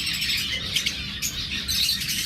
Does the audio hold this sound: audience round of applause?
no